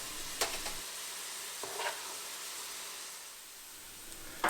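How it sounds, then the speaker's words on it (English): Onions frying in oil in a pan for patatas bravas give a steady, soft sizzle with a few brief clicks of stirring, heard alone at low level. "While the onions are frying away, I can go ahead and take the potatoes out of the oil."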